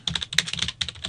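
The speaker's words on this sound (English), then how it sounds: "let's type in Claire Perry," Quick, crisp typing on a computer keyboard, a rapid run of about a dozen close keystrokes with a brief pause in the middle.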